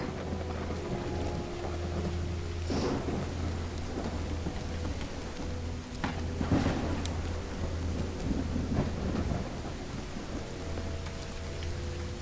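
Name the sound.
heavy rain and thunder in video game Call of the Elder Gods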